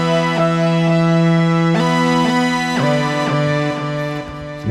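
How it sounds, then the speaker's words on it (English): Hard synth lead from the Wave preset in Analog Lab, loud and brash with dense buzzy harmonics, playing sustained notes that change pitch every half second or so, alone. "And after this, I add this crazy hard lead."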